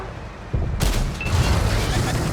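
A loud tank cannon shot booms in World of Tanks on console, a sharp blast followed by a sustained roaring tail over low rumbling battle noise.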